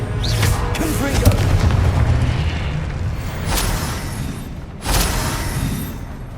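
Confringo spell explosions in the video game Hogwarts Legacy: deep booming blasts under game noise, with sharper bursts near the middle and the end, while a voice speaks.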